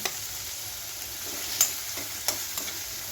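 Onion sautés in oil in a pan with a constant soft sizzle, broken by a few sharp clicks of a spoon or spatula stirring against the pan, and no voices.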